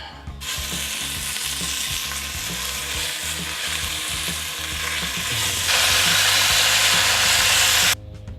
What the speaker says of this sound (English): all we want to do is get a nice little sear on this meat